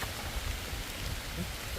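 Rain falls in a forest as a steady, dense hiss, soft and even throughout a brief stretch.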